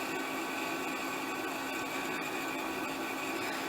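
A Brother SE-400 sewing machine winds a bobbin with a steady, even motor whir that holds a constant level throughout, close by and alone with no talking.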